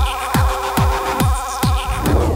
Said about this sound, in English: If you can hear a truck in the background, it's a dude just cutting sick laps on the sand.